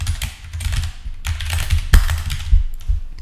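Code being typed on a computer keyboard produces quick, close clusters of clicking keystrokes in irregular bursts, with a few heavier taps standing out, and no voices.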